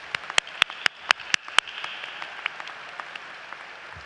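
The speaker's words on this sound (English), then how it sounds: "let's give another big round of applause for our support systems" At a 2024 law school commencement, a crowd gives scattered applause, sharp individual claps landing loudly at first, then thinning into softer, sparser claps as it dies away.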